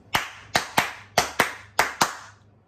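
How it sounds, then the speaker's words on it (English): Hands clap a children's song rhythm for the Scottish song "Katie Bairdie" with seven sharp, close claps in an uneven pattern. Two pairs come quick, then single beats follow, with no talking. "wasn't that a dainty croc will sound like this with my hands."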